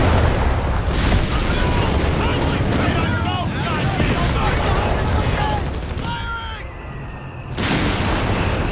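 Battle sounds in Company of Heroes 3: steady loud rumble of gunfire and explosions with whistling shells, shouted voices over the din, a brief dip near the end before the noise swells again.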